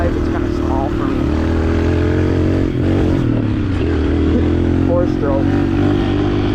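A 125cc four-stroke dirt bike with lowered suspension runs steadily through a gravel pit, its engine droning loud and close with rising revs throughout, while a voice talks over it.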